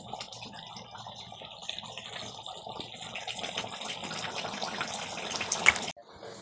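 Liquid poured into a bowl, a gentle splashing stream that grows fuller and louder over several seconds before cutting off, heard close in a quiet kitchen.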